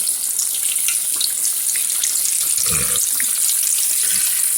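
Buttermilk-dipped chicken pieces frying in hot grease make a steady, loud crackling sizzle throughout, with brief bubbling bursts as pieces are laid in; no one speaks.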